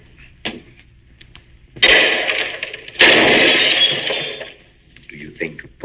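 Gunshots ring out in an old mystery film: two loud, sharp blasts with long, bright, shattering tails, separated by about a second, with brief dialogue before and after.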